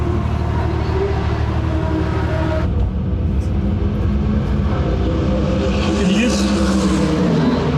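A Porsche 992 GT3 on the track at COTA keeps up a loud, continuous engine roar heard from inside the car, with an abrupt change in tone partway through as the engine note shifts.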